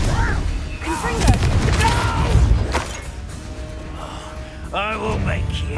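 A fiery Confringo blasting spell in a wizarding video game bursts with a couple of dull booming blasts amid gasps and character voices.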